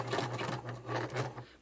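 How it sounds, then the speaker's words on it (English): A sewing machine stitches the flap of a leather-style satchel, a short close burst of fast mechanical whirring with a steady low motor hum and quick repeated needle strokes. "Sewing the flap is a treat after sewing the bottom"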